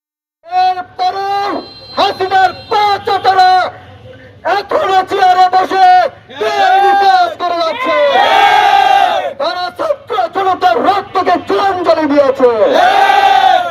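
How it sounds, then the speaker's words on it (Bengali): Students and a crowd in Panchgarh protest while blocking the road in front of the district judge's court, loudly chanting slogans in rhythmic bursts, a lead voice answered by many voices together, with brief pauses between chants. "পরে ছাত্র জনতা জেলা জজ কোর্টের সামনে রাস্তার অবরোধ করে বিক্ষোভ করতে থাকে"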